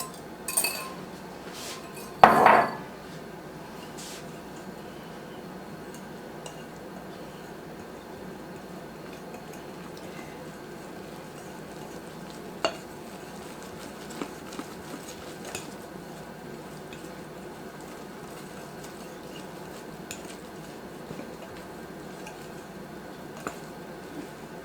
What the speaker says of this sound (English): And put this in and mix it just until it's mixed.